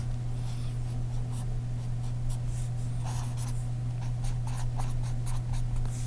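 Marker drawing on a board, quick faint squeaky strokes in short irregular bursts over a steady low electrical hum, no talk.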